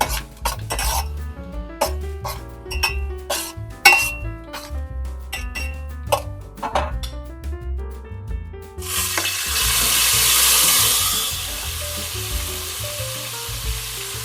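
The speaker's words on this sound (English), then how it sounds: "Add them to a pan with a little oil and gently sauté them." Slivered almonds sautéing gently in a little oil in a pan while cooking Persian sour cherry rice. A steady, close sizzle begins about two-thirds of the way through and runs to the end, following a stretch of music.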